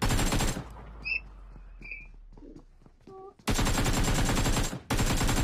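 Gunfire in the mobile battle-royale game PUBG Mobile: loud bursts of rapid automatic fire open and close the stretch, with a quieter gap in between holding a few faint electronic tones and clicks.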